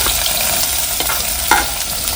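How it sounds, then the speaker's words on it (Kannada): Finely chopped onions fry in hot oil in a village kitchen, a close, steady sizzle with occasional scraping stirs. "ಈಗ ಈರುಳ್ಳಿ ಸ್ವಲ್ಪ ಸ್ಮೂತ್ ಆಗಬೇಕು, ಅಲ್ಲಿವರೆಗೂ ಫ್ರೈ ಮಾಡ್ಕೊಳ್ಳಿ"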